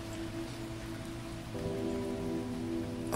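Steady rain falls in the video game Phoning Home, a soft, even patter on a surface that carries on without a break. It grows slightly denser partway through, with no voices.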